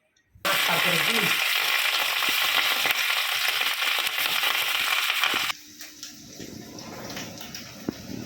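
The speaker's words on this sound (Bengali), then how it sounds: "এই মাছগুলো ভাজা নিব" A loud, dense sizzle of hilsa fish frying in a pan starts abruptly and holds steady, then drops to a quieter crackle with scattered pops.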